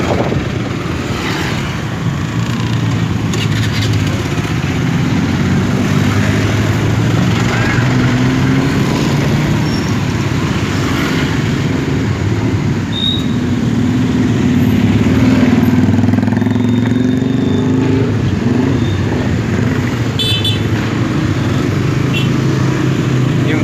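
Motorcycle and car engines idle and rev in dense street traffic in Bandung, a steady loud rumble of many mid-sized motors lasting throughout, with a person talking over it.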